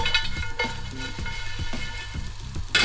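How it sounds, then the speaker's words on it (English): Bread toasting in a very hot pan, a soft continuous sizzle with light crackles, close and fairly quiet, with no talking. "The pan is very hot, so as you can see it starts toasting already."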